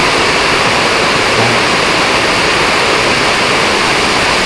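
Water runs steadily while something is being washed, a dense, even rushing wash that holds at a constant level throughout, with no voices.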